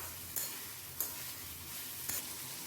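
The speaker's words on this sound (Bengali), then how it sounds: "সে ভেজে রাখা কচুগুলো মশলার মধ্যে দিয়ে ভালো করে নাড়াচাড়া করে দিচ্ছি" Fried taro pieces being stirred into cooked spices in a pan for a vegetarian arbi dish, with a low steady sizzle and three sharp scrapes of the spoon against the pan, fairly faint and close.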